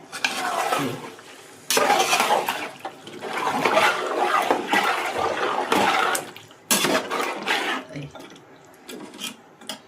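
Masala is stirred in a pot for chicken biryani, a spoon scraping and clanking against the pot in bursts with short pauses between, close and fairly loud.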